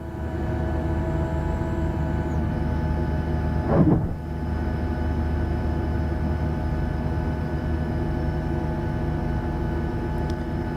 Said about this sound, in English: that's the flaps coming down into position